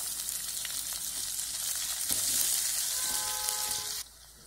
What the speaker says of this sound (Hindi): हमने प्याज को भी अच्छी तरह सोते कर लिया है